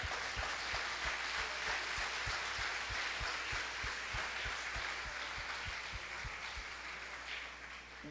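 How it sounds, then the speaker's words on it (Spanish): Applause from a congregation at a church congress, a soft, even patter of many hands held at a distance, with a faint regular low thumping beneath it. "Vamos a darle un aplauso al Señor."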